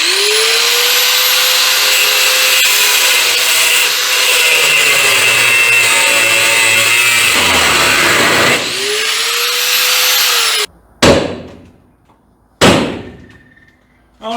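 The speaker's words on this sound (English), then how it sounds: "I only cut about half the nut." A nut cutter bites into a nut during a 1981 Ford F100 build with a stroker 394 engine. A loud, steady, high whine runs for about ten seconds, then two short, sharp bursts follow.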